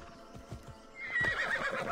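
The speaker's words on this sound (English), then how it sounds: "Get my horse." Horse in the video game Assassin's Creed Odyssey: clip-clop hooves thud in a steady gallop rhythm, then a loud close whinny rises and trails on over the hoofbeats.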